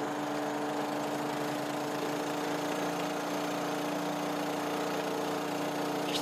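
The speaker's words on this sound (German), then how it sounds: "So, der Generator ist wieder angesprungen jetzt." A generator runs steadily after restarting, its even mid-pitched engine drone and hum holding without letup, close and moderately loud with no talk over it.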